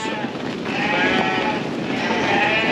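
A crowded flock of ewe lambs bleats continuously inside a shearing shed in New Zealand, a dense, steady chorus of overlapping calls with no clear talking.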